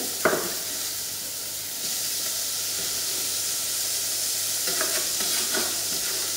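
Mushrooms, shallot and chives sizzle steadily in a hot pan, with close, crackling hiss and occasional scrapes and stirs of a utensil.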